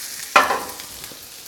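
Keto breakfast scramble ingredients dropped into a hot pan, a sudden sharp sizzle that bursts up and then fades to a softer, settling crackle within about a second.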